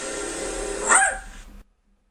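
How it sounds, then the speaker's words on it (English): A single dog bark rings out over a steady background hum, used as a signature sound cue at a Syracuse football segment, then the clip falls silent. "whenever you hear the sound of Lily, you know that the top dog is coming up here"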